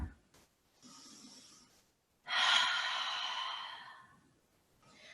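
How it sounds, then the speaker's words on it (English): A deep, slow inhale followed by a long, audible exhale during a gentle yoga class, close and soft, with a brief faint breath sound before it and quiet between. "Take a deep breath in there."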